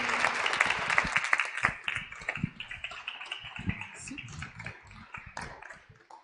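An academic conference audience applauds after a talk on climate and health, fairly sparse clapping with distinct individual claps that thins out as it goes on.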